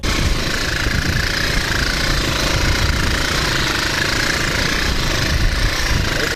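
A motorcycle engine runs steadily on a twisting road in a heavily militarised border zone at Kye-Ossi between Cameroon and Equatorial Guinea, giving a loud, close, continuous throbbing drone with rough knocking texture and no voices.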